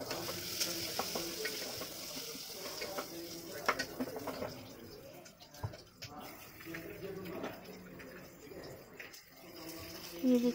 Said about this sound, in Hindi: ये देखिए मेरा सिंपल ओकरा फ्राई और इधर ऑनियन फ्राई हो रहा है।